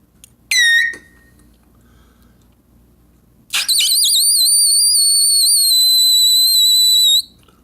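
A trumpet squeaks a piercing triple C twice: a short shrill burst, a pause of silence, then a long sustained whistling squeal held for several seconds before cutting off, loud and alone.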